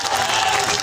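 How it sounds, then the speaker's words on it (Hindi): A crowd at a political rally breaks into loud, dense applause with some cheering, a brief steady burst of clapping with no voice over it. "महाराज साहब को और मुन्ना लाल जी को जरा जोरदार ताली बजाकर ये बता दे"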